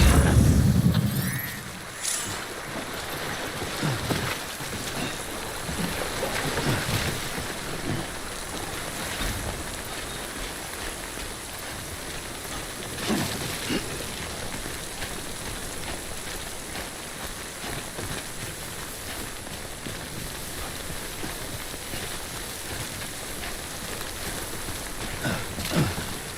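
Steady timefall rain hisses across the landscape in the video game Death Stranding, a continuous wash of falling water with a few soft splashes and thuds, and nobody talks.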